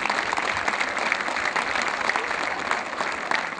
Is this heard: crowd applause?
yes